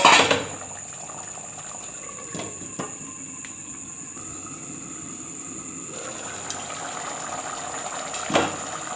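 Tamarind water sambar simmers in a pot with a steady, soft bubbling hiss and a faint high whine, broken by a few light clinks from stirring near the start and end.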